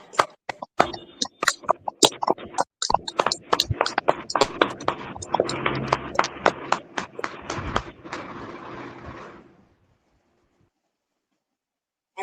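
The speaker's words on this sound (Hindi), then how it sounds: "आइए हम एक ताली ऊंची ताली देकर प्रभु को धन्यवाद देते हैं।" A congregation at a prayer service claps loudly in thanks to the Lord, beginning with scattered sharp claps that swell into dense sustained applause for several seconds before stopping abruptly into silence.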